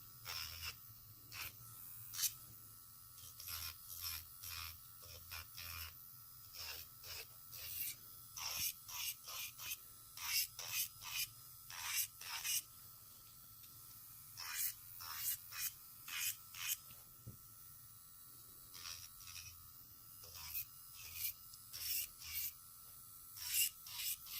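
An electric nail drill with a round ceramic bit buffs over nails and cuticles in repeated short, rasping bursts against a steady low motor hum, close and fairly quiet.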